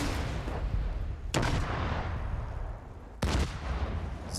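Gunshots from the video game The Division 2 ring out in a couple of sharp loud blasts over a continuous rumbling battle background, with no speech.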